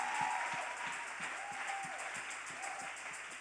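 A church congregation applauds a miracle of the Lord, with dense sustained clapping from a crowd of many hands filling the room, steady and moderately loud, with faint voices mixed in.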